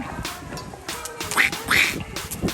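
Ducks quack repeatedly at a park pond in Pattaya, Thailand, several loud, nasal calls in an irregular series, close by, with outdoor background noise.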